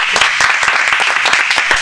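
A studio audience applauds during a slam improvisation broadcast: loud, close, dense clapping with distinct individual hand strikes, sustained evenly for about two seconds without voices.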